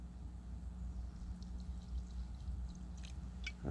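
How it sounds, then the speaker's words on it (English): Water is poured into a zebra billycan to make a steamer, a soft, quiet trickle running under faint background noise that ends with a brief louder splash. "let's get this water in here."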